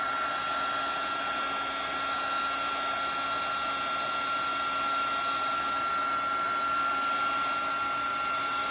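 A fast heat embossing gun runs steadily at close range while it melts embossing powder, giving a loud, continuous whooshing blower roar with a high whine that holds unchanged throughout.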